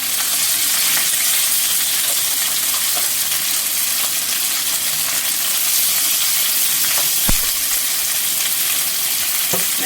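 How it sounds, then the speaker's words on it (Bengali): Chicken mince frying in mustard oil in a home kitchen, a steady, dense sizzle that holds evenly throughout, with an occasional clink of a utensil against the pan. "দিলাম চিকেন তেলের মধ্যে"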